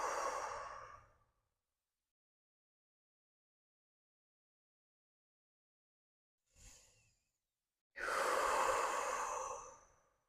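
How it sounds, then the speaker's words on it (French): During a full-moon and eclipse sound healing session, deep, slow breaths are taken up close: one long exhale, a short breath later, then a fuller drawn-out breath, separated by near silence. "à prendre 3 grandes respirations."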